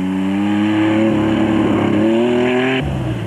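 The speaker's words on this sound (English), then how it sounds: "Brothers Lawrence and Harrod Duplessis were on their customary charge in the newly liveried Porsche-powered Chenoweth" A Porsche-powered Chenoweth off-road race car at the Mmabatho 500 desert race roars close by with a loud, buzzing engine note. It climbs in pitch as it revs, then drops sharply at the end.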